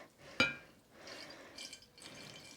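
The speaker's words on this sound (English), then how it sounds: "I'm just going to add some water very slowly to this." Faint trickling and splashing of water poured slowly onto powder dye in a container, in soft intermittent bursts after a single sharp clink.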